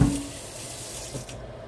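Water poured into a pot of oxtails, a short close splash and trickle that starts with a thud and then runs at a soft, steady level.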